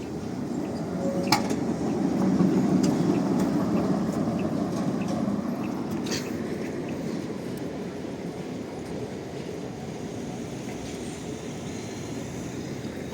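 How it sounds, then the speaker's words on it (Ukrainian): City tram on a street in central Lviv, a low rumbling roll that swells near the start and then fades gradually as it passes, with faint street ambience and scattered clicks around it. "Зараз піде трамвай по вулиці Руській."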